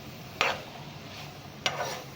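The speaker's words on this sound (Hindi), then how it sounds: "तो सबको अच्छे से मिक्स करेंगे।" A spoon mixes black chickpea chaat with spices, making two short scraping strokes about a second apart over a soft background hiss.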